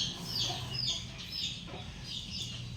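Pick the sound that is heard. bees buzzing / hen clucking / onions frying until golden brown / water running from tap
hen clucking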